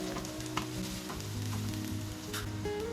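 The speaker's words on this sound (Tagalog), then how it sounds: "Igisa na natin ang ating sibuyas. Ayan, then isunod na po natin ang ating bawang. Then ang ating luya." Onions, garlic and ginger sautéing in hot oil in a pan, a steady close sizzle with occasional stirring scrapes, no talking over it.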